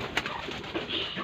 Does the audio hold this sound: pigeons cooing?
yes